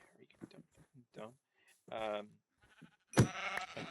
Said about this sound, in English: I found some sheep and began to make a bed.